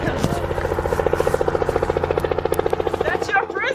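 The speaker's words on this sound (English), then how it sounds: "Is that a helicopter?" A helicopter close by makes loud, rapid rotor chopping in a steady pulsing rhythm with a turbine whine underneath, while people speak excitedly over it.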